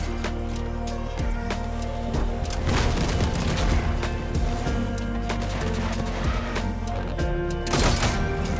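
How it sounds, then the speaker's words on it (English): Loud, dense booms and crashes fill the Crossout vehicle combat game, layered over engine drone and gunfire, with a heavy blast near the start and another burst of explosive noise toward the end. "there's no way I'm removing a good explosion like that"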